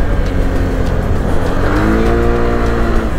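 An FKM Venture ADV 180 scooter rides over speed humps with a loud, continuous engine drone and wind rumble close to the rider, its pitch rising as it accelerates.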